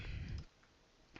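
A single computer mouse click heard near the end, sharp and faint after a brief low rumble, with no speech.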